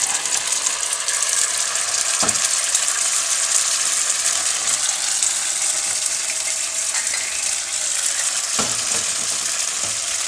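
Stir-fry of Thai basil with fighting-cock chicken offal, chili and garlic sizzling steadily in a pan as oyster sauce goes in, a constant loud hiss with a few faint utensil clinks.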